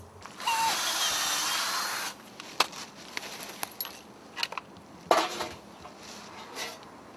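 A power drill bores into a tree trunk during maple tapping season, a whirring burst of about a second and a half, then scattered metallic clinks and knocks from handling tools and fittings.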